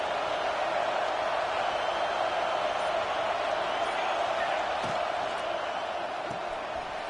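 A steady wash of stadium crowd noise from a college football video game fills the whole stretch, a constant roar with faint scattered thumps beneath it.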